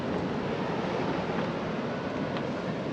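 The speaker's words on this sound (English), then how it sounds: "Like the waves come all the way up here?" Ocean surf along the rocky west-side coastline of Oahu, Hawaii: a constant, full wash of waves close by, steady throughout with no voices.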